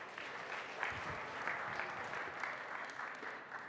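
Audience applause welcoming a presenter at a tech conference stage in Riga, a steady, moderately distant wash of many hands clapping alone for several seconds.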